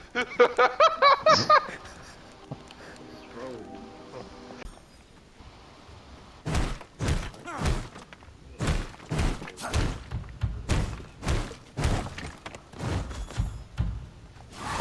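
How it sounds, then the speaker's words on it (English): Knocking on a door in the survival video game V Rising, a series of dull, evenly spaced thuds repeating for several seconds after a burst of laughter and chatter. "I hear you knocking."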